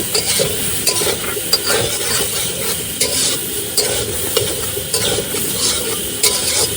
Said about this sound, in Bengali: এবার ভালো করে লাল লাল করে ভাজতে হবে